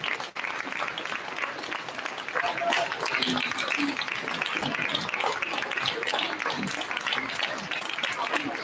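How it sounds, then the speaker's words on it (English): Audience applause at a third and fourth grade school concert, a dense sustained wash of many hands clapping close by, steady and loud throughout with scattered voices and cheers mixed in. "you are doing a great job of keeping that applause going"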